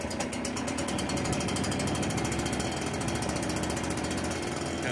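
Small two-stroke engine idles steadily throughout, a continuous rapid mechanical rattle with a buzzing, ratchet-like beat, close and moderately loud, with no talk over it.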